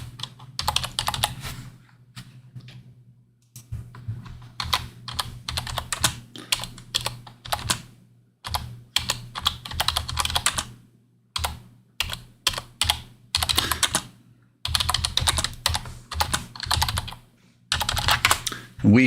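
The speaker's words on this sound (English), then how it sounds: "I'm going to type that as well." Clattering keystrokes on a computer keyboard in quick irregular bursts with brief pauses, close and clear, a low steady hum underneath.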